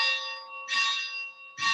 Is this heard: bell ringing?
yes